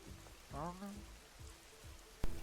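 Rain falling in the video game Schedule I, a soft, faint, steady patter with a brief voice-like tone early on and a sharp click near the end.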